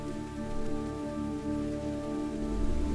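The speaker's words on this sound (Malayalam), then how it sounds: "മഴ നല്ല പോലെ പെയ്യുന്നുണ്ട് അതെ വളരെ ഭയങ്കരമായി" Heavy rain pours steadily around a rural house near farmland, making a continuous even hiss with a faint low hum beneath it. No voices.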